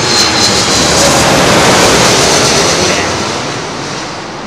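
A passenger jet on approach to London Heathrow's runway 27L gives a loud, steady roar of engine noise and rushing air that holds strong, then fades slightly toward the end, with no talk.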